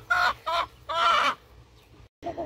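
A hen clucks close by in several rhythmic bursts, pausing briefly before one more throaty cluck.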